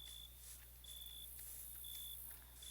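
High, steady insect-like chirping from crickets in modded Minecraft repeats in short even bursts over a low constant hum, fairly faint with no voices.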